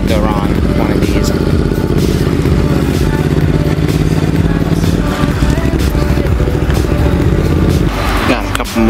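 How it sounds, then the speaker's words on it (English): Motorcycles at a motorsports show give off a steady, loud engine rumble nearby, with a few sharp blips among the general noise of the event. "Got a couple motorcycles over here, a little motorcycle crew right here."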